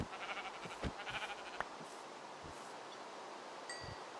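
Faint sheep bleats from Minecraft come and go over soft rustling in a quiet setting.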